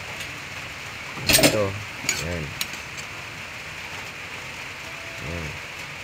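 Rain falling outdoors at a home while fish soup cooks, a steady soft hiss throughout with a brief clatter and someone speaking over it.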